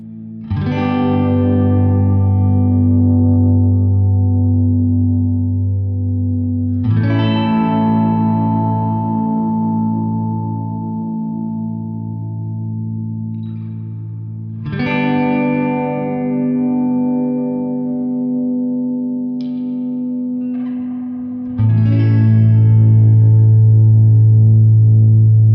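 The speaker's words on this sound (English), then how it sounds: "Auto Infinite samples what we're playing and holds it until we play the next thing." Electric guitar played through an EHX Oceans 11 reverb pedal in Auto Infinite mode: four loud strummed chords, each held as a dense, droning wash of reverb that sustains unbroken until the next chord replaces it.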